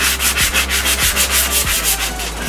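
Wood being sanded for camper van cabinet doors, a steady, loud rasping rub with even back-and-forth strokes and a few low thumps, no voices.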